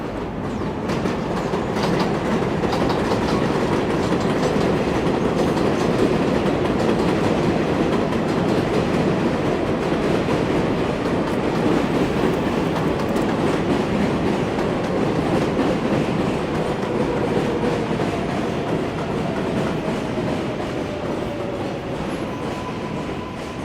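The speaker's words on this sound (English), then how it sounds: "I hear a train rumbling towards us now." A New York City number 7 subway train on elevated tracks in Queens rumbles and roars steadily for a long stretch, loud and close, with rattling wheels and a faint high squeal toward the end.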